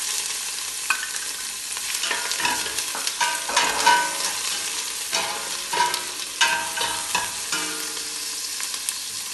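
Onions and curry leaves fry in hot sesame oil for kulai sadham, a dense, loud sizzle crackling continuously while a utensil stirs and scrapes in irregular strokes.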